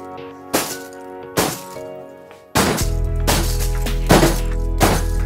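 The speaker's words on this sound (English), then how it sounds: "I am shattering a football with liquid nitrogen." An NFL football frozen in liquid nitrogen shatters: two sharp cracking impacts, then a loud sustained crash of breaking pieces with a couple more bright cracks near the end.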